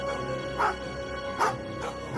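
Dogs running bark in short bursts, about four sharp yelps spaced through the span, fairly close over a steady tonal background hum with no talking.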